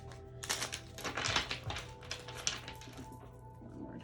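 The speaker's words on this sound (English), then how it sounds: "Let me just shuffle this deck really quick." A deck of tarot cards is shuffled close by, a dense run of quick papery riffles and taps lasting several seconds, steady and moderately quiet.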